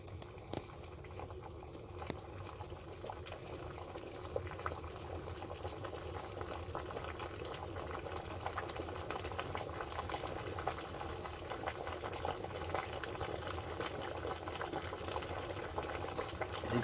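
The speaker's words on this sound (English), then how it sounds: "You can see the water boiling." Water boiling in an electric tea kettle, a faint steady bubbling and rolling patter that continues evenly without pause and grows slightly louder toward the end.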